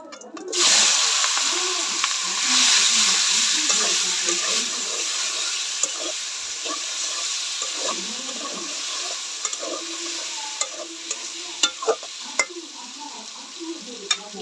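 Chicken meat frying in a pan with dried chillies gives a loud hiss as it goes in, settling into a steady sizzle with scattered clicks of stirring.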